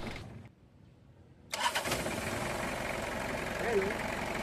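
A Toyota Revo pickup truck engine cranks and catches after a brief quiet, then settles into a steady idle with a faint rattle from the air filter housing; a voice speaks briefly early on.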